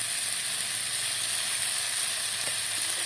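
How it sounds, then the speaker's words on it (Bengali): Vegetables sizzle steadily in a hot pan, a continuous crackling hiss with a faint tap partway through. "তবে এটা একটু ভাজা ভাজা করে নেব"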